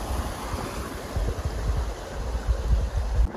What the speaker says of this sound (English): Oh, a nice creek too.